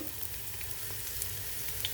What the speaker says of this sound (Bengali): এখন আমি পেঁয়াজটা হালকা ভেজে নিচ্ছি।